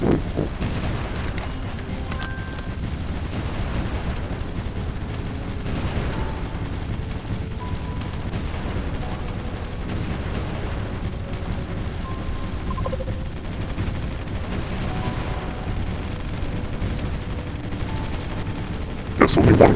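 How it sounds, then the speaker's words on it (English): Heavy artillery and gunfire from the war strategy game Supreme Ruler crackle continuously in a dense stream of overlapping shots and booms, with a louder burst at the very end. "we are surrounded by such heavy artillery now"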